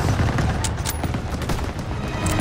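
Dense, continuous MG-42 machine gun fire from Call of Duty: WWII, a loud, sustained burst of rapid shots layered with other battlefield gunfire for the whole stretch.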